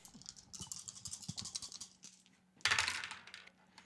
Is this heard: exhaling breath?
no